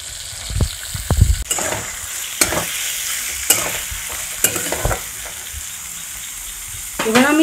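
Soaked chana dal frying in oil with asafoetida, a sizzle under repeated sharp stirring and scraping strokes in the pan, a cluster of thumps near the start, then steadier crackling.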